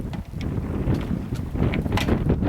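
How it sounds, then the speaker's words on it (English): A steady east wind of about 10 knots rushes past a sailboat at sea, some 120 miles from Cape Flattery, producing a constant low roar with gusty buffeting against the microphone and no voices. "This wind is east at 10 knots, easily."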